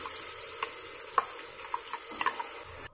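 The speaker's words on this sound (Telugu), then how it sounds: "మసాలాని అంతా కూడా బాగా ఫ్రై చేసుకోవాలి" Masala spices with tomato frying in a pan while being stirred, a steady close sizzle with light irregular scraping ticks of a spoon against the pan, no voices.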